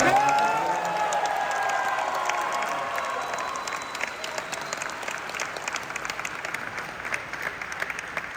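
An audience gives John Carpenter a round of applause at a Halloween 1978 reunion event, clapping and light cheering loud at first, then thinning into scattered claps.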